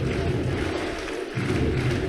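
Home crowd in an arena cheering loudly for a Serbian judoka at a cadet world judo championship, a dense roar of many voices with a short dip in the middle before it swells again.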